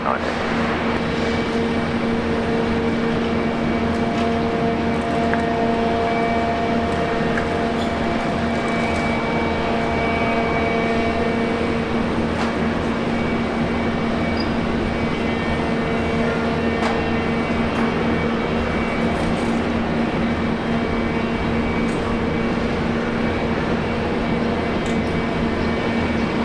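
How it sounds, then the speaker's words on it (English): An air start unit runs for an aircraft at Brisbane Airport, a loud, steady droning roar with a constant tonal hum that continues unbroken throughout, with voices talking over it. "Sounds like something's getting an air start down there."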